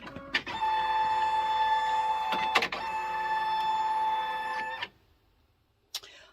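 An embroidery machine's embroidery arm moves with a steady high whirring motor hum, broken by a couple of clicks, then stops abruptly near the end before one faint tap.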